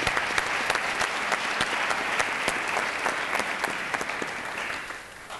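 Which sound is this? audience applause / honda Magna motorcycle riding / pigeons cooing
audience applause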